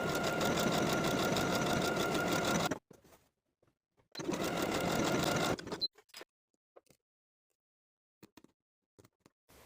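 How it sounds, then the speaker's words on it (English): A domestic sewing machine stitches buttonholes into the right front facing piece of a vintage 1960s step-in dress, running in two steady bursts of about three and two seconds, then a few faint clicks. "Then we'll sew our buttonholes into the right front facing piece as marked from the pattern."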